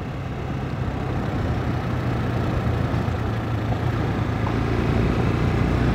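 A large, tall motorcycle rides on wet asphalt in Tulum on knobby tyres, a constant close engine drone mixed with steady road and wind rush, with no break or change in level.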